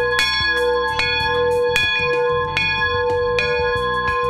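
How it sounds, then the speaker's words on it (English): Bell rung repeatedly at a school homecoming picnic, sustained ringing tones with regular strikes layered over each other, loud and continuous. "Are you ready for this bell?"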